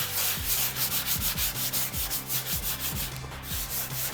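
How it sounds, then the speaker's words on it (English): Steady back-and-forth hand sanding with a block across the painted bonnet of a Mk1 VW Golf GTI Cabrio, light pressure giving even, rhythmic rasping strokes about twice a second, close and continuous. "So just very lightly sand over it."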